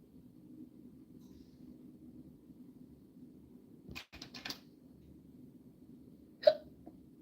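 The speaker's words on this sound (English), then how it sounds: "Oh gosh, I got the hiccups." A single sharp hiccup from a woman working on crochet, sudden and close against a quiet room hum, preceded by a couple of brief clicks or rustles.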